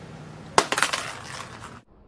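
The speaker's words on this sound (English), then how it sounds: "iPhone 6 Plus side drop test in 3," An iPhone 6 Plus dropped on its side hits a hard surface with a sharp crack, then rattles and bounces in several quick clinks that fade out within about a second.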